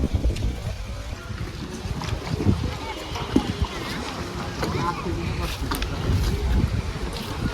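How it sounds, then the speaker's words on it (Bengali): A trawler boat approaches on the Dhaleshwari River at Chanar Ghat, Keraniganj, its sound a steady broadband rumble mixed with wind and water noise, continuous and moderately loud throughout with no clear voices. "চলে আসতেছে এই ট্রলারে করে আমরা নদী পার হয়ে ওপারে চলে যাব"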